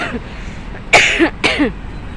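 Two short, harsh coughs close to the microphone from someone winded after climbing the stairs of Pantaleon Bridge, following some faint breathy sounds, with no talking.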